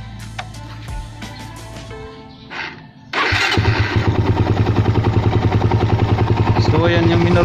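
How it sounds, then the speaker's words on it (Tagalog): A Rusi Raider 150 motorcycle with a freshly cleaned and tuned 28mm flat-slide carburetor cranks and fires up, then settles into a loud, close, steady idle with a fast rhythmic pulse. "Try natin pandarin."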